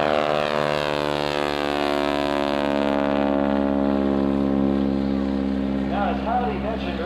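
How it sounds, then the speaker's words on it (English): A propeller aircraft, likely a Ryan-built military type from the Korean War era, drones past with a loud, rough rapping from its propeller tips, steady and close, while a commentator talks over it. "that loud rapping noise that you hear is actually not the sound of the engine. It's the sound coming from the very tips of the propeller"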